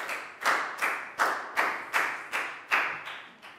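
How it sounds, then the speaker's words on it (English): Classroom clapping for a pupil, about nine sharp, evenly spaced group claps in a steady rhythm, close and moderately loud, with no talk. "High five, big round of applause for Pat."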